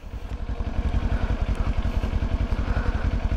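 Kawasaki Ninja 400 motorcycle engine running steadily up close, a loud rhythmic low putter with fast even pulses throughout, no voices.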